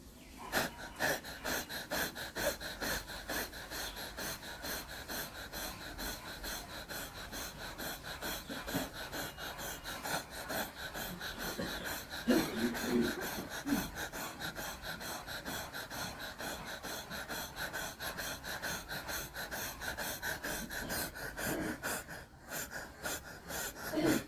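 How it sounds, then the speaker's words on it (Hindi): Rapid, forceful breathing out through the mouth with the tongue out, like a dog panting, done as a kundalini yoga exercise: a steady, fast train of short puffs lasting over twenty seconds, close and even, with no talking. "उदर को तेजी से अंदर बाहर करते हुए श्वास को तेजी से छोड़ना है। जिह्वा बाहर निकला हुआ रहे। ये क्रिया कुत्ते के हांफने की तरह है।"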